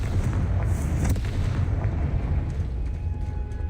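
A Confringo explosive spell going off in Hogwarts Legacy, heard as a loud, rumbling fiery blast that fills the whole stretch with dense low roar and crackle, with no talking.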